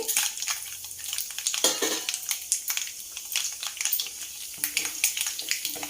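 Dry red chillies crackle and spatter in hot tempering oil for coconut rice, a busy close sizzle with brief crisp pops and a stir, and no voices.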